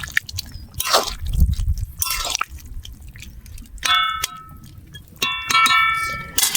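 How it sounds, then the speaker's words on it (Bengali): Curry with coriander leaves is stirred in a metal pan, producing close, bright clangs and ringing clinks in uneven bursts with short pauses between. "ধনিয়া পাতাটা আমি দিয়ে দেবো। দিয়ে আমি ভালো করে নেড়ে দেবো।"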